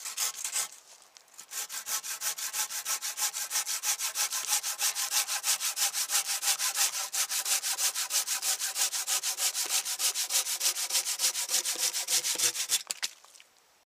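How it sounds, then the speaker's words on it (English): A hand camp saw cuts through wood in fast, steady back-and-forth strokes, loud and close, running for about eleven seconds before stopping. "I'm going to show you my left hand how fast it is to cut through"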